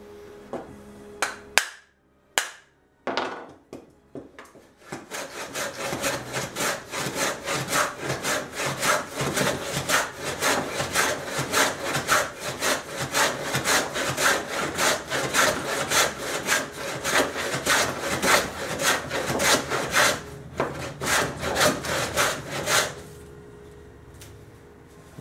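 A reconditioned Sandusky 177 hand dado plane shaves wood in steady, rapid back-and-forth strokes, loud and close, after a few sharp knocks at the start, then falls quiet near the end.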